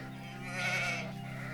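A single drawn-out bleat from a sheep or goat on a farm park, clear and moderately close, rising in the middle and fading over about a second and a half.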